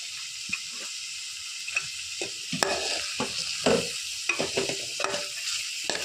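Carrots and other vegetables sizzling in a pan for corn soup, with a steady close frying hiss broken by repeated scraping stirs of a spoon against the pan.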